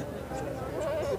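A goat at a livestock market lets out a short wavering bleat near the end, under a voice and the murmur of the crowd.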